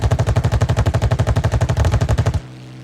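An aircraft auto cannon fires from inside the cockpit in Arma 3's Spearhead 1944 add-on, a loud, rapid, steady burst of heavy thumping shots, about twenty rounds, cut off abruptly and leaving a low engine drone.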